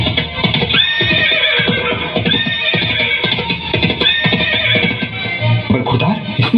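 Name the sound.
horse neighing, injured horse passing in a school play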